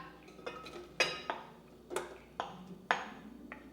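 Chopped fresh strawberries dropping into a metal pot give a series of light clinks and taps, about eight irregular hits over a few seconds, quiet and close with no talking.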